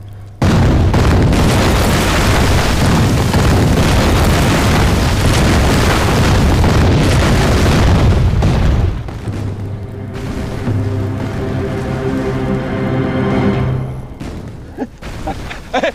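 Artillery shells explode in a heavy, continuous roar of blasts for about eight seconds in a war film battle, then the barrage gives way to a lower rumbling, humming drone with scattered distant booms.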